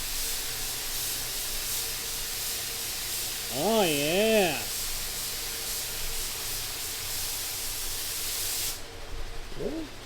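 Aerosol spray cans hiss continuously as green paint goes onto a Honda car body, a steady close spraying noise that cuts off near the end, with a brief voice talking over it.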